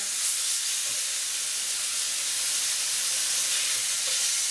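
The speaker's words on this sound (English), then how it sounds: "You can hear that nice sizzle as it cooks" Continuous, even sizzling hiss of chicken pieces cooking in a hot pan, steady and close with no voices.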